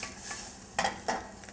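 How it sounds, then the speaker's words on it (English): Green cardamom pods sizzle in hot butter in a pan while butter chicken is cooked, a faint, quiet frying hiss with two brief sharper crackles partway through. "When that butter starts sizzling in there,"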